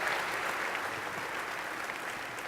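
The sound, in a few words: audience applause for community service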